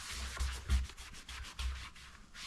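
Sandpaper rubbing by hand on the trim of an old diesel BMW, a quiet rhythmic scratchy back-and-forth with several short strokes and no talk.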